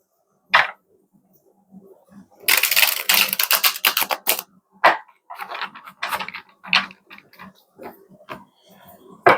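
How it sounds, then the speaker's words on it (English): Tarot cards being shuffled during a reading: a dense, crisp riffling burst lasting about two seconds, followed by scattered softer card taps and flicks, close to the microphone. "let me shuffle this one more time."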